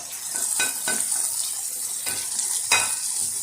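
Spices fry for a Punjabi chicken curry, a loud continuous sizzle with a few brief scraping stirs cutting through, close and with no talk.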